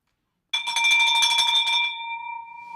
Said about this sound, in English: Let's ring that victory bell.